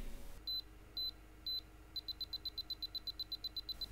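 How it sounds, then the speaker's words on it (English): Three evenly spaced high beeps, then a fast steady run of shorter beeps, crisp and electronic against a quiet background. "before you hear the beep"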